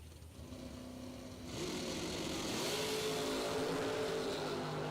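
A drag race car launches hard off the line at a bracket racing event, its engine swelling from a steady roar into a loud, sustained full-throttle blast that holds to the end, with no talk over it.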